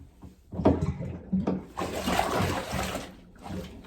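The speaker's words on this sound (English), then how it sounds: "I let all the water out of my tub" Water drains out of a home bathtub with a steady low gurgling rush, faint and close, swelling and fading in waves.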